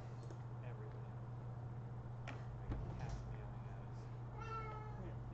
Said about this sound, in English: And we got cats meowing at us.